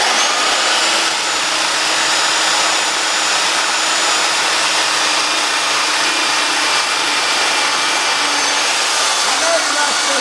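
A power sander with a sanding pad works on wood, giving a loud, steady, continuous whirring hiss close by that runs unbroken throughout.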